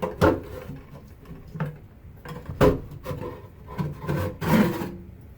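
Plastic bathroom exhaust fan housing being worked out of its mounting slots, giving a series of close scraping, rasping rubs and knocks in irregular bursts with no talking.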